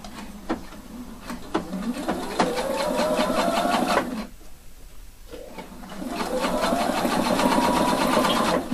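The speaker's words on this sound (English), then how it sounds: "Now I'm sewing as close as possible through all layer." A home sewing machine fitted with a zipper foot stitching through the layers of a jeans fly, running in two loud rapid whirring bursts that speed up, separated by a short pause.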